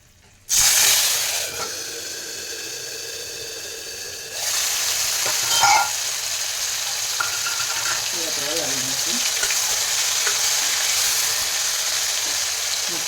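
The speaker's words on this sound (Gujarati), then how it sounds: "ત્યાર પછી આપણે વઘાર કરી દઈશું" Spices sizzling in hot oil for a vaghar tempering, an abrupt loud hiss that settles into a steady crackling fry with some stirring scrapes, continuing throughout.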